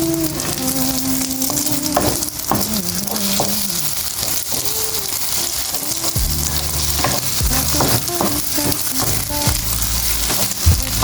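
An egg fries in hot oil in a clay pot for udon noodles, giving a steady loud sizzle with spitting crackles and some clatter of stirring throughout.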